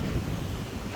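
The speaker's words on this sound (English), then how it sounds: "You can see it's kind of windy now, so the waves are heavy." Wind blowing by the sea on a day of heavy waves, a steady broadband rush buffeting the microphone, with faint surf beneath and no voices.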